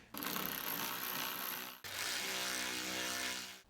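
A hand ratchet clicks rapidly in two steady runs, close and faint, while tightening bolts on a 2008-2009 Subaru Legacy bumper during a headlight lens replacement.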